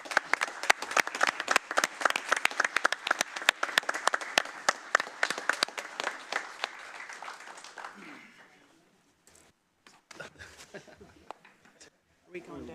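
A room of people at a county board of commissioners meeting claps for about eight seconds, a dense burst that thins out and fades, followed by scattered quiet noises.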